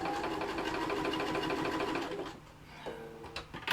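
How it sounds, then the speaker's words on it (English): A sewing machine stitching binding onto a vanity case runs in a steady, fast mechanical whir, then stops and gives a few quieter clicks and taps at the end, close and alone without speech. "And while I'm going round with the binding, it's putting the pocket, it's sewing that down as well"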